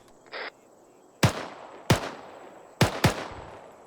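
Distant ZU autocannon mounted on the back of a truck firing in the video game ArmA 3, from about 1,800 meters: four sharp cracking shots in quick separate bursts, the last two close together, each with a short echoing tail.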